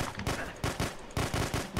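Rapid gunfire in the multiplayer shooter The Hidden: Source, loud bursts repeating in quick regular succession with no pauses across the whole stretch.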